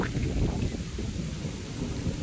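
Heavy rain pours steadily while deep thunder rumbles through, a dense, continuous wash of low noise without voices.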